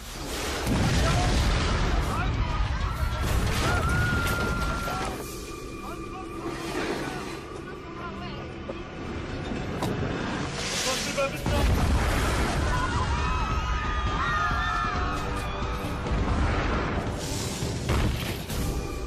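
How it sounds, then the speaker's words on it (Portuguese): Deep cannon booms and blasts roll out under a dense, loud roar of bombardment, with a voice talking over it. "As pessoas em Constantinopla nunca tinham vivenciado nada parecido com um bombardeio de canhão."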